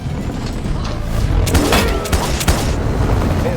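Fireworks blast during a rescue movie scene, a cluster of deep booms and crackling bursts swelling midway, loud against a dense rumbling background.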